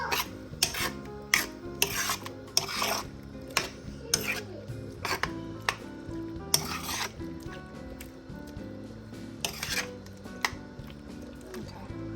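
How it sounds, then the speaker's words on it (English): Shrimp being stirred in a pan with butter and garlic, a spoon scraping and rasping against the pan in irregular strokes with clinks, while a steady background hum runs underneath. "Just want to mix it in real good with the butter and the garlic."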